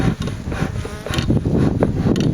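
Steady honeybee buzzing fills the air, a dense continuous drone close by with small fluctuations, like bees swarming around.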